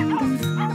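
A dachshund giving a couple of short, close barks and yips, loud and clear in a brief burst.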